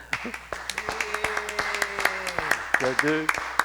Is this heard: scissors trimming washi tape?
no